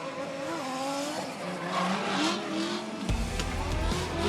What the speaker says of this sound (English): Jamison has turned Mudgee around there, just touching the rear bar on initiation